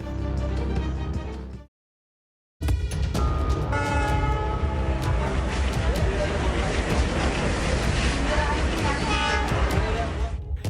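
A Mumbai local train on the move, with continuous rail rumble and a loud horn toot. The sound drops out briefly before resuming at full strength.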